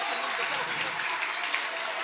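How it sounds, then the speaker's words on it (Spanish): Warm applause from the audience at an education conference on ancient cultures, a steady dense clatter of many hands held at an even level for the whole stretch. "¡Aplausos muy cálidos para todos nosotros!"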